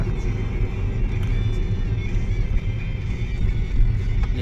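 A car drives through Kuala Lumpur traffic, giving a steady close engine and road rumble with no pauses and no talk.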